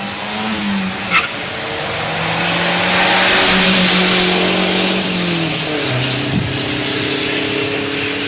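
Volvo and Dodge cars accelerating side by side in a drag race, a loud rising engine roar that swells toward the middle, with gear-change dips and a brief tire chirp.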